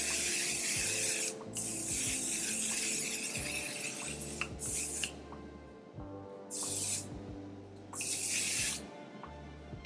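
A One Size On 'Til Dawn setting spray goes off close by in four separate hissing bursts, each about a second long, with quiet rustling and handling noises in the pauses between them.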